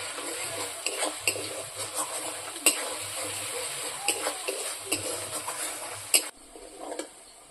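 Onions and chilies frying in a pan, a soft sizzle running under repeated scraping and stirring clinks of a utensil against the pan, with a brief louder clatter near the end.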